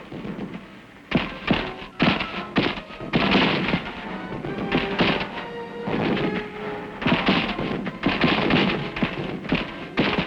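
Wartime gunfire and artillery on a rugged hill crest where UN troops fire on close enemy positions, heard as a steady barrage of sharp shots and heavy thuds in irregular bursts, loud and dense throughout.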